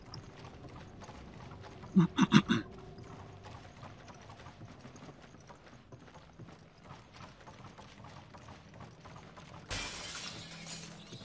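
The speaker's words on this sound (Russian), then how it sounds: "туша просто прилетела, разбила окно" A window shatters in Resident Evil 5 as a body crashes through it, a short sharp burst of breaking glass with a few clustered crashes, fairly loud against quiet game ambience, followed later by a brief hiss of noise.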